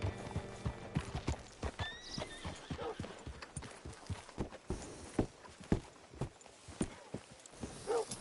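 Horse hooves clip-clop at a walking pace in the Red Dead Redemption 2 video game, close and rhythmic, with a brief whinny near the start and quiet ambient sounds between steps.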